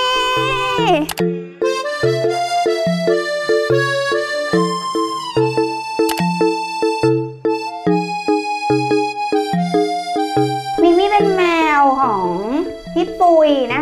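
A female cat in heat meows again and again, loud and close, in long drawn-out calls over a steady pulsing background, with a person talking throughout.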